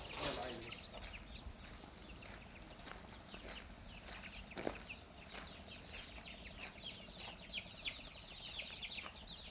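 Free-range country chickens (nattukozhi) clucking and squawking nearby on a farm over a constant noisy background, with a brief flutter of wings and faint voices.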